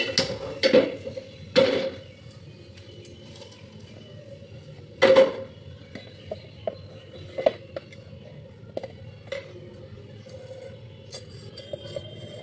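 A metal wok filled with water is set on a gas stove, giving a few sharp clanks of metal early on, then scattered light ticks and taps in a quiet room.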